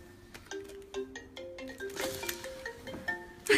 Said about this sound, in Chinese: 宝哥，快，手机响